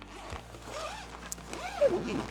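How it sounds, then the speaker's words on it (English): A zipper on a telescopic-handle pool cue travel suitcase is pulled in short scratchy strokes, with a louder rasping pull near the end and quiet handling noise, close by and with no talking. "They've got a zipper"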